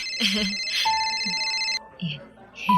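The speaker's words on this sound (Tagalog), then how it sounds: "yung cellphone mo nagre-ring" Mobile phone ringtone ringing, a bright repeating electronic melody with people talking over it, the tone cutting off partway through.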